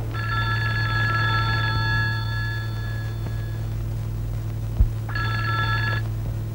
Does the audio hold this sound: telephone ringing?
yes